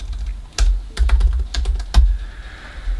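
Fast bursts of keystrokes on a computer keyboard as Arduino code is typed, close and crisp with short pauses, no talking.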